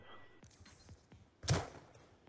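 A gunshot in a first-person shooter video game played in a private match: one loud, sharp burst near the middle, with lighter clicks and game sounds before it and no talk over it.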